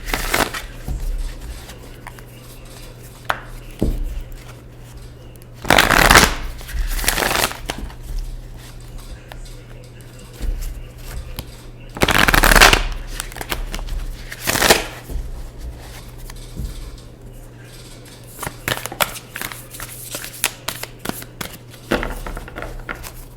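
Tarot cards are shuffled in several bursts of riffling and slapping, close and fairly loud, separated by quieter handling with a low steady hum beneath.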